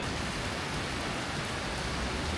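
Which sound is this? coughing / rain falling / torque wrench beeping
rain falling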